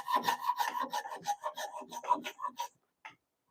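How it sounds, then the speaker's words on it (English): An old hand saw crosscutting wood in a workshop, with a steady series of close, rasping push-pull strokes that stop near the end of the clip and leave a single short scrape. "It's tight. It's biting my saw. Wow, really biting that saw."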